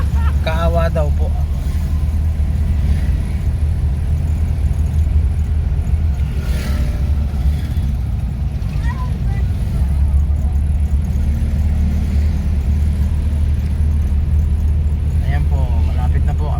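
A car drives along the road toward the town of Baler, a steady low engine and road rumble running throughout, with a person talking over it.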